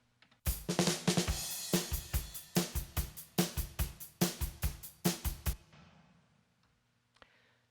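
A polished drum kit groove with full kick, crisp snare and cymbals, loud and roomy, stopping after about five seconds as a faint tail rings out.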